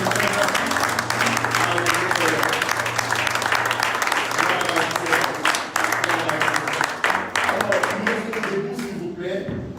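Church congregation clapping and cheering loudly throughout, a dense sustained wash of applause with voices and a steady low hum underneath.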